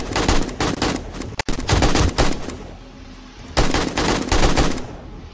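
AK rifle gunfire in 7 Days to Die during a horde night: loud rapid bursts of automatic shots, a brief pause, then more close, heavy volleys.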